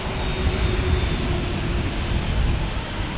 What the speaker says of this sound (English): All right, Frontier A321. Getting ready to take off, crossing the threshold.